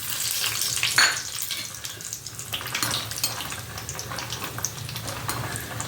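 Peanuts frying in hot oil in a pan while crispy aloo fry is made, giving a steady broadband sizzle with a louder burst near the start. No one talks over it.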